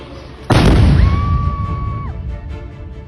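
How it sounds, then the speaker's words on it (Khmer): A sudden loud blast from Thai weapons fire near Thmor Da, Pursat province, strikes after a brief pause, followed by a rumbling tail and a lingering whistling tone. "ភាគីថៃបានបំផ្ទុះអាវុធក្នុងកំឡុងពេលក្រុមអ្នកសង្កេតការណ៍អាស៊ាន កំពុងចោះសង្កេតការណ៍"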